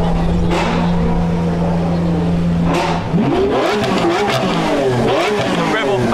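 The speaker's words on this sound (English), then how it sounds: "It's a rev off battle" Performance cars, including a Nissan GT-R and Lamborghini Aventadors, rev their engines nearby in a rev-off, with a sustained drone giving way to rising and falling throttle blips and sharp barks, loud and close, with voices talking underneath.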